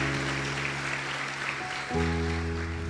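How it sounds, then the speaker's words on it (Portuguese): Church congregation applauding during a sermon, a soft bed of clapping under sustained organ-like tones that shift midway, fairly even and moderately loud. "Você pode aplaudir o Senhor"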